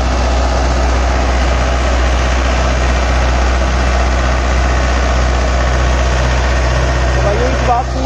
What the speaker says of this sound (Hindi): लोड आ रहा है ट्रैक्टर का यहाँ पे RPM ड्रॉप है, देखो दोस्तों रूटावेटर की गहराई देखो।